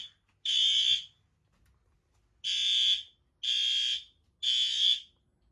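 A Gentex Commander 3 horn strobe alarm sounds loud and close in four harsh, buzzing blasts, each about half a second to a second long, with gaps of silence between them and no talking.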